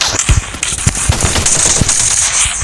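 Rapid bursts of automatic gunfire in the Free Fire shooter game, loud and close, with sharp repeated shots running continuously over the short stretch.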